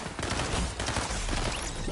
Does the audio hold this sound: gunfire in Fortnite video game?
yes